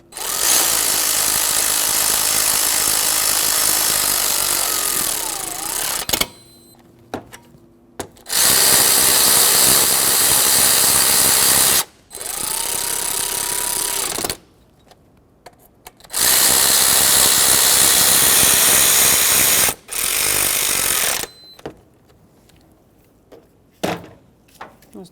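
Power tool or ratchet driving alternator mounting bolts on a 2000-2005 Ford Excursion 6.8L V10, loud close bursts of whirring in several runs of a few seconds each, separated by short pauses.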